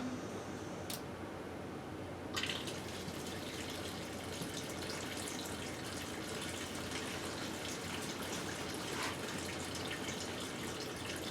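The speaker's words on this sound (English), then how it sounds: "as you see we have water draining out, which is a great sign" Water drains from the open drain valve of a hot water tank being replaced, a steady broadband rush with faint dripping, moderately quiet and continuous after a brief click.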